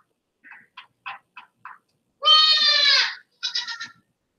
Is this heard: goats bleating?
yes